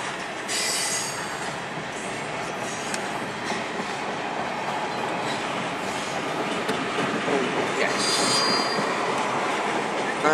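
A Canadian Pacific train rolls past on double track near Rochester, a steady loud rumble of wagons with wheels squealing in high bursts and faint clickety-clack throughout.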